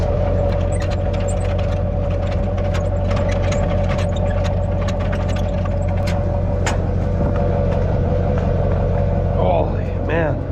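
A truck engine idling while backing up to a trailer, a loud, steady low rumble that holds throughout with a few faint knocks on top.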